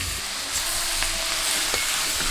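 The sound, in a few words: spices and onions being sautéed in a pan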